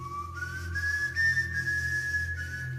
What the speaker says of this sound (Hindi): एक सीटी बजा रहा है